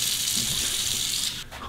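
Hot water runs from a tap in a continuous, loud hissing gush that drops away abruptly near the end, with no talking.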